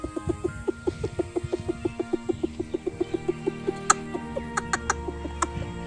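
A human voice imitates a mother hen clucking to call her chicks to food: a rapid, even train of short clucks close to the mic, then a few sharper, higher calls, with no other talk.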